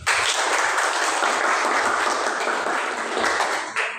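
A classroom group claps for a presenting student group, a dense, steady burst of applause that holds at full strength for the whole stretch before easing at the end.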